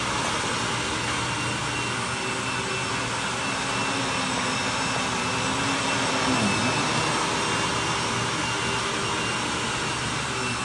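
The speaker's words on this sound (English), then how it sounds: "Then we're going to vacuum it going this way too," Vacuum cleaner running steadily on a thick shag area rug, a loud continuous broadband whine and drone that holds evenly throughout with no pauses.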